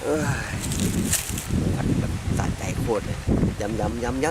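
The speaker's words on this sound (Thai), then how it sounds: "แต่ลมมันแรงนะ" Strong wind buffets the microphone beside a canal during snakehead fishing, a continuous rough roar running through the whole stretch while someone talks over it.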